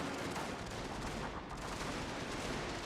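Shrapnel fire from artillery in a strategy video game, a dense unbroken roar of overlapping gunfire and blasts that stays loud and even for the whole few seconds with no pauses.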